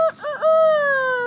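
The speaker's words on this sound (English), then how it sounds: "Most people think that chickens just make a crow sound." A chicken or rooster gives a single drawn-out crowing call lasting about a second, loud and close, with a brief clucking onset before the long tone.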